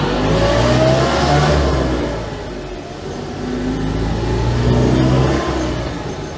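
A tiny Autobianchi Bianchina van with a crash gearbox drives along, its small engine revving up, dropping briefly at a gear change around the middle, then pulling again, loud and close throughout.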